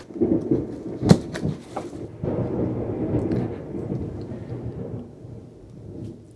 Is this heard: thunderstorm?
yes